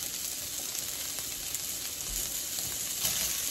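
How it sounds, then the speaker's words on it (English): Pieces of Eckrich beef sausage sizzle in a pan, a dense, steady crackling hiss close by that swells slightly toward the end. "And now I'm gonna add the sausage. This is beef sausage."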